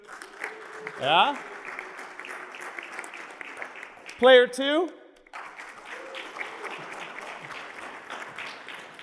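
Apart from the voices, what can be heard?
audience applause for game players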